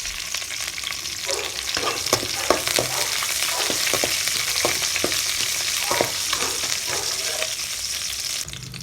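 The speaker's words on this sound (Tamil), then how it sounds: "அது பொரிஞ்சதுக்கப்புறமா 1 கொத்து அளவுக்கு கறிவேப்பிலை, கூடயே ஒரு பச்சை மிளகாய்" Curry leaves and green chili frying in hot oil for raw mango rice, a loud, close crackling sizzle with bursts of spattering and stirring and no voices.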